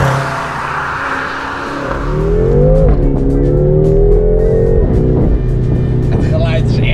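A BMW M6 Cabrio engine revs and pulls hard while driving, its pitch climbing and dropping through gear changes, loud and close, with voices talking over it.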